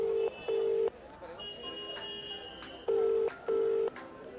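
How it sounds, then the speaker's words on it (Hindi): Phone call being placed to a father: two pairs of steady ringback tones bracket a stretch of quieter background, the tones loud and close as if through the handset. "जा रहा फ़ोन, जा रहा फ़ोन, जा रहा पापा को।"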